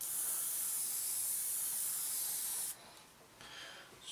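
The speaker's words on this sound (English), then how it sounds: "So get the pressure up a bit in the compressor." A hobby airbrush compressor, used for painting a 1/72 scale Revell Halifax Mk.III model kit, gives a loud, steady hiss of air that suddenly cuts off to quieter intermittent spurts and then resumes faintly.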